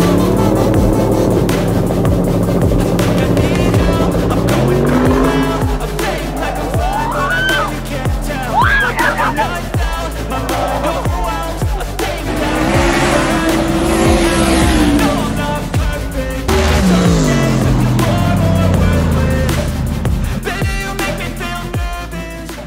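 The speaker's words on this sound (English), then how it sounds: "it's Brian White and Billy racing in the finals" Drag race cars launching and running side by side in the finals at KD Dragway, loud continuous engine roar with rising revs and tire noise, crowd and track ambience throughout.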